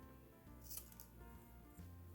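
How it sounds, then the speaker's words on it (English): Scissors snip through paper at close range in a quiet room, one or two soft, crisp cuts over faint background hiss, with no voices. "Now I want to cut these out."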